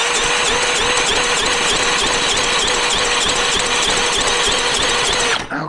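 A small 2014 Honda 2.3 hp outboard motor runs at a loud, steady buzzing pitch close by, holding constant before cutting off abruptly near the end.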